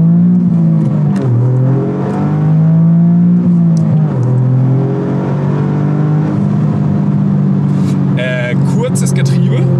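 A Toyota GR Yaris with 261 hp accelerates hard, its loud close engine note climbing and dropping through several quick gear shifts, while people talk over it inside the car.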